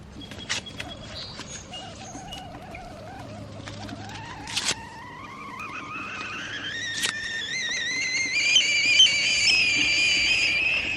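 A rocket stove kettle's whistle starts low and wavering, then climbs steadily in pitch and grows louder and shriller over several seconds, with a couple of sharp clicks early on.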